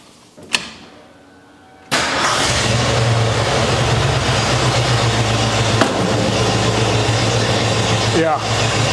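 Car engine running steadily after a brief start, with its RPM shifting as ignition timing is adjusted from ported vacuum; a loud, continuous rumble close by, with a short gap just before it catches.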